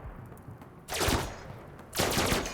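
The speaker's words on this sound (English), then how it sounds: "Oh, the rockets." Rockets fire in the RimWorld video game as two loud, sudden blasts of rushing, crackling noise about a second apart, each trailing off over low rumble.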